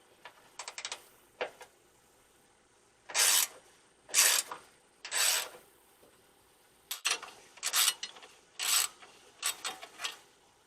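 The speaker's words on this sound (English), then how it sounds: "4 bolts and it comes off, so let's get to it" Four bolts are unfastened to take off a car bumper and grille, heard as close, sharp bursts of rapid mechanical clicking and rattling tool action, separated by short pauses, with no talking.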